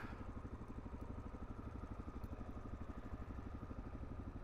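A 2025 Suzuki DR-Z4S motorcycle engine runs steadily at a demo day ride in the middle of a city, its close, even exhaust pulses thrumming without pause and with no voices.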